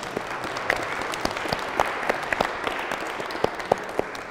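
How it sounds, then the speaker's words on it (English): Audience at a church event applauding, a steady wash of many hands clapping for several seconds with scattered sharper claps, fairly close and without talk. "Can you give yourselves a round of applause?"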